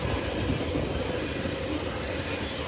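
A northbound CSX freight train of phosphate empties rolls past on the Henderson Subdivision at Hanson, Kentucky, a loud continuous rumble and wheel roar holding steady throughout, with no voices.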